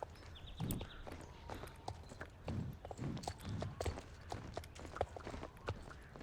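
Horse hooves clip-clop at a steady walking rhythm in the Star Stable Online video game, close and fairly soft, with faint background music.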